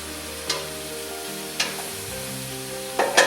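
Mushrooms cooking down in a soup pot give a steady soft sizzle, broken by three sharp clinks or scrapes of stirring.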